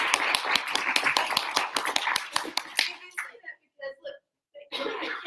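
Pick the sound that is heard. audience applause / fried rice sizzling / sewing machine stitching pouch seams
audience applause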